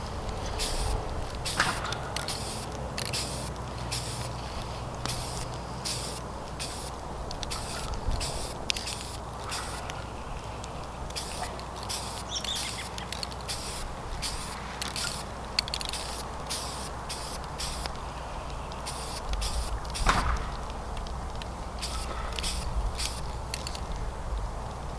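Aerosol spray paint hisses in repeated short bursts as a dark brown first coat goes onto a turkey shotgun barrel, close and fairly steady, with brief pauses between passes.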